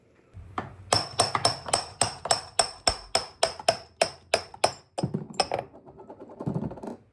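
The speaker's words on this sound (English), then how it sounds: "go get a couple screwdrivers or a pry bar and boop, pop this off hopefully" Rapid series of about fifteen sharp metallic strikes with ringing tones, then looser clanks, as screwdrivers or a pry bar work a part off a transfer case on a 7.3L truck.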